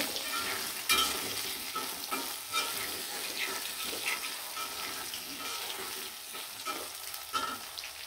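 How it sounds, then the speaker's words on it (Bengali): Potatoes fry in hot oil in a pan with a soft steady sizzle, while a utensil scrapes and stirs at intervals, fairly quiet and close. "আলুগুলো খুব সুন্দরভাবে ভাজা ভাজা করে নেব"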